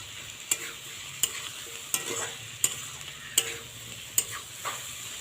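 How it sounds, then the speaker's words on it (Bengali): Spoon stirring chilli powder, turmeric, salt and sugar into cabbage in a pan, a steady sizzle under about seven sharp scraping strokes at a regular rhythm, close and clear with no talking. "এটা সুন্দর করে নাড়াচাড়া করে দেবো।"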